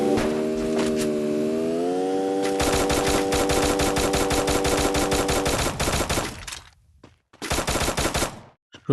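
Gunfire in the Free Fire battle royale game comes in loud, rapid automatic bursts after a rising tone, with a long sustained volley, then short pauses and a final burst.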